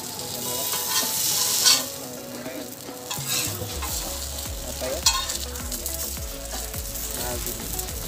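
A Maggi noodle omelette sizzles in a hot pan while a utensil stirs and scrapes, producing steady frying crackle punctuated by clinks and scraping strokes, close and clear.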